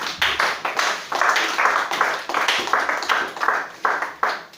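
A worship congregation claps steadily in an even, repeating rhythm to acclaim Jesus, a room full of hands beating together at moderate loudness with little talk.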